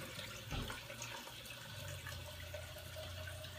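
Steady running water pours from a tap into a kettle, a continuous close splashing hiss with low rumble beneath.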